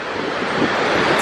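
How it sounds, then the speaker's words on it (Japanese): Waterfall at Yellowstone National Park, a loud, steady roaring rush of falling water with wind buffeting, continuous and close. "これが滝に落ちていく感じで"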